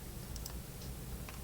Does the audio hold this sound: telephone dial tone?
no